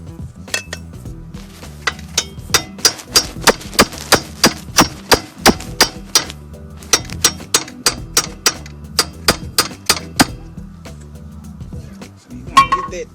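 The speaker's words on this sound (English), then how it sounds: "Get that chisel in there pretty good." A chisel hammered in to wedge open a strut housing on a 1986-1991 Cadillac Seville or Eldorado, a long run of sharp ringing metal strikes in steady bursts, close and loud, with a short gap before the last blows.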